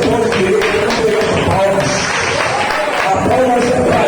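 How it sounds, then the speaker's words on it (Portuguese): A church congregation claps loudly and continuously, a dense wash of applause filling the room while a preacher's voice carries over it. "Você vai aplaudir a Deus"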